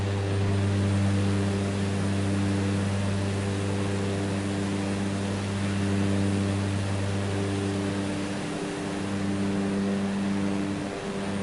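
A Cessna propeller airplane in Microsoft Flight Simulator 2024 on PS5 drones steadily in flight, a loud continuous engine and airflow roar with a strong low hum and no speech.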